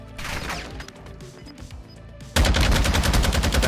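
Gunfire from a powerful, recoil-free weapon in Warzone: quiet game ambience and a few clicks, then a loud, sustained rapid burst of automatic shots fills the last second and a half.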